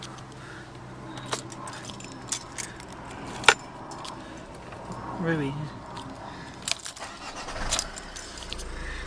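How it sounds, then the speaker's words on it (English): Keys jangle and a car engine is started in a 2011 car, with scattered clicks and rattles, then a low engine rumble rising near the end; a person speaks briefly. "let me just switch the engine on a second."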